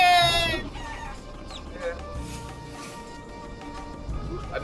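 Chicken clucking and squawking from the video game Guacamelee, several sharp bursts over game effects and background noise.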